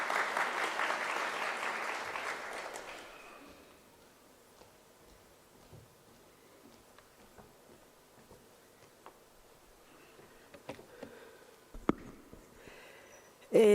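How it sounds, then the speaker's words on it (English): An audience at a higher-education teaching and learning conference claps in a burst of applause that lasts about three seconds and then fades. Quiet room rustles and small clicks follow, closing with a sharp knock. "Let's give a round of applause coming in."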